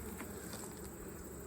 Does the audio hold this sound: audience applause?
no